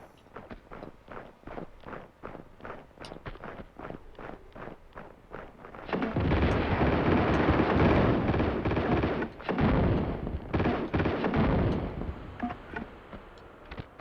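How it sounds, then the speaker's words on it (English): Grenade blasts in the Tomb Raider II video game, a sustained roaring burst of explosions lasting several seconds after a run of sharp ticking and stepping sounds, loud and close, fading back to lighter clatter. "50 grenades."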